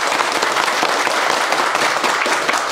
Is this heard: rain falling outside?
no